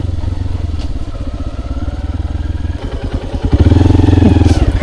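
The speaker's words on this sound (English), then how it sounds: "The hum of the motorbike" A motorbike engine hums steadily up close on a ride through the Mekong Delta in southern Vietnam, its pulsing drone growing louder and rougher toward the end.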